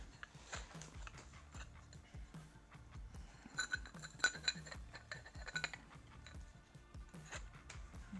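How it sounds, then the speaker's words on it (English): An ARP valve spring compressor at work during bottom-end assembly of a Hyundai G4FJ engine, giving scattered close metallic clinks, taps and light clicks of steel parts seating. "So first step would be enter it into the spring compressor."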